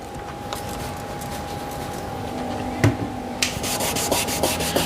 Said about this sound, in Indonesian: kita gunakan amplas 400 untuk mengamplas.